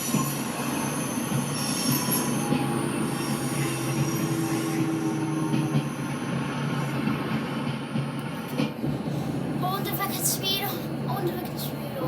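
A train rolling along rails in the Train Sim World 5 video game, with a continuous rumbling run and drawn-out wheel squeal, plus a few sharper bursts near the end.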